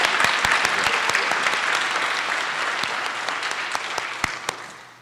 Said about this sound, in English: do we clap for JP again?